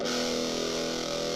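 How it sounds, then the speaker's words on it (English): An electric guitar played through a tiny 9-volt Peavey Rockmaster amp with the distortion pushed hard: a dense, buzzy, saturated chord held steadily at high level for a brief moment, with no voices. "Wow, that is a chunky sounding distortion."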